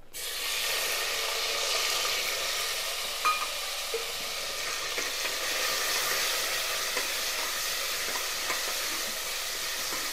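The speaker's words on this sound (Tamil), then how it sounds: "தக்காளி வதங்கட்டும்." Small tomatoes sautéing in a pan with cinnamon and star anise, an even, unbroken sizzling hiss at close range with a couple of faint utensil clicks near the middle.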